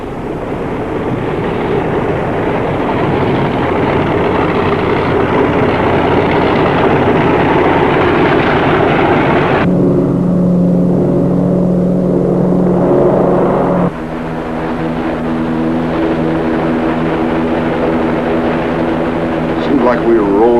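Overweight aircraft carrying extra fuel in a fuselage tank rolls down a runway on a long takeoff, a loud, steady engine roar that shifts into strong droning tones partway through, with a voice talking over it.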